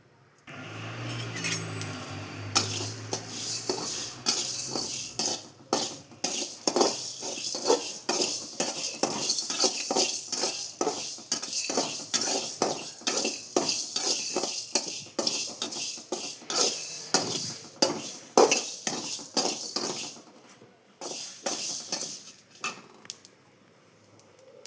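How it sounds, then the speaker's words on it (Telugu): Fenugreek and cumin seeds roast in a pan, heard as a long run of rapid metallic scraping and clinking from a spatula stirring against the metal, close and busy with short pauses. "1/2 టీ స్పూన్ మెంతులను వేసి లైట్గా వేగిన తర్వాత ఇందులోని 1 టీ స్పూన్ జీలకర్రను కూడా యాడ్ చేయండి."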